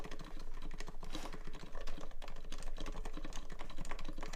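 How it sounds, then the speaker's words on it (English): Heavy, forceful typing on a mechanical keyboard with brown switches, a dense fast clatter of keystrokes heard up close and steady throughout. "I kind of like bash typing"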